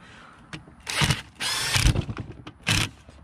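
A power driver or ratchet spins bolts back into a Denso alternator in short whirring bursts, three distinct runs separated by brief pauses, close and fairly loud.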